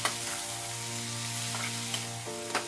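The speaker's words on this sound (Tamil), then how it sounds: "இதை நல்லா ஒரு தடவை வதக்கி விட்டுருங்க." Chopped drumstick leaves and banana flower sizzle in a hot pan while being sautéed. A steady, close frying hiss carries a few soft stirring scrapes, with no talk.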